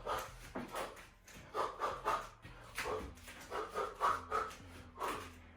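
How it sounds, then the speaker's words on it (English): Sharp, rhythmic exhalations during solo boxing training, one puff of breath per punch or technique, repeating steadily at close range over a low background hum. "Exhaling on each technique."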